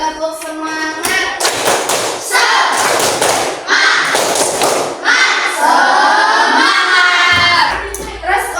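A school class claps the rhythmic 'tepuk semangat' chant, sharp loud group claps in quick bursts with children's voices shouting the chant in between.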